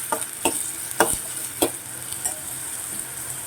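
Onions sizzling and frying in a pan with tomato, chilli and salt for a puffed rice snack, steady close hiss broken by several sharp stirring scrapes, no talk.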